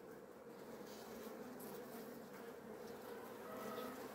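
Honeybees hum steadily inside a Black Sea region beehive opened for a February inspection, a dense close buzz with no talk.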